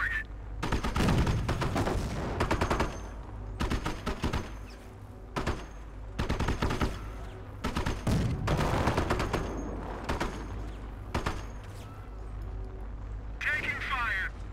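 Gunfire and artillery in the World War II strategy game Company of Heroes, with dense bursts of shots and booming blasts repeating across the clip, loud and close, interleaved with brief in-game voice callouts.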